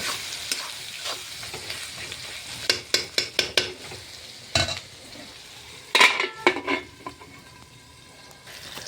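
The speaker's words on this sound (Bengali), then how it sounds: "নিমখ দিয়ে অল্প লড়ালড়ি করিয়া ঢাকা দিব" Salted food in a pan is stirred and fried at close range: a bed of sizzling runs throughout while a spoon or spatula makes bursts of rapid clattering scrapes against the metal, loudest in the middle stretch, with no voices.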